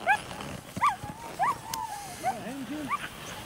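A sled dog team at the Willow 300 sled dog race in 2020 whines and yips eagerly in short repeated bursts, close by and fairly loud, over a faint outdoor background.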